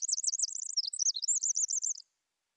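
A songbird sings a rapid, high, twittering phrase of repeated chirps and trills lasting about two seconds, close and clear against silence, then stops.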